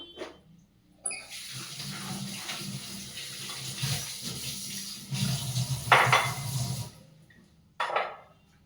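New potatoes being washed by hand in water to rinse off sand, with splashing and a running tap in bursts, loud and close, separated by brief pauses.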